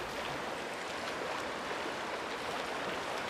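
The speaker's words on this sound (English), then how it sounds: "Oh no, the current. Don't sweep me away." Rushing water current in the video game Uru: Ages Beyond Myst, a steady, close, loud broadband wash that fills the whole stretch without a break.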